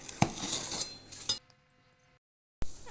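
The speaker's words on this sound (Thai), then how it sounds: "เอามาตัด เอามีดหรืออะไรก็ได้นะคะ ตัดให้เป็นชิ้นๆเลย" A knife clinks and taps against a plate or board while slicing chilled, set xiaolongbao soup stock into pieces, a few short sharp contacts, then near silence and a final tap.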